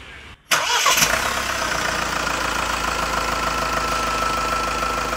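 A 2020 Mahindra Thar engine cranks briefly and catches after a short silence, then settles into a steady, even idle with a soft mechanical clatter, close by and with no talking.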